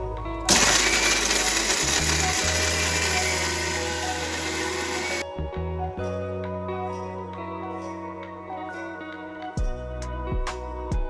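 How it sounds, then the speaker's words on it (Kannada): A kitchen mixer grinding coconut chutney with water, loud steady whirring for about five seconds, then stopping and leaving low hum and scattered clinks and knocks. "ಇದನ್ನ ನೀರು ಹಾಕಿ ಗ್ರೈಂಡ್ ಮಾಡಬೇಕು"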